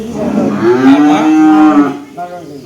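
A dairy heifer, offspring of a 30-litre milking cow, lets out a single loud, close moo lasting about two seconds, trailing off into a short lower grunt.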